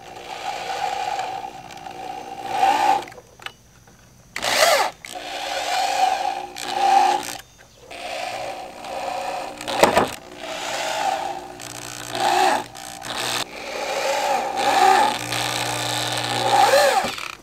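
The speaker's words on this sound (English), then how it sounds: "Okay, we got them all drilled in." A power drill drives screws into a 1987 Powell Peralta Caballero skateboard deck, with repeated whirring bursts of varying length separated by short pauses, close and fairly loud.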